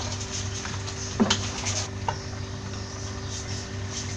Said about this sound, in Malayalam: ഇനി ഇത് നന്നായിട്ടൊന്ന് മിക്സ് ചെയ്തെടുക്കാം.